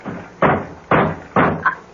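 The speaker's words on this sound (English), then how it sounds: "It sounds like someone at the door. At the front door." Three heavy knocks on a front door, evenly spaced and loud and close, each a sharp thud, with a lighter tap trailing the last one.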